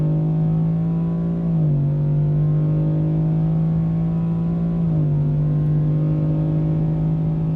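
A modified 5.3 truck in two-wheel drive with the locker on, its engine droning loud and steady close by, the pitch stepping down twice as the gears shift during hard acceleration.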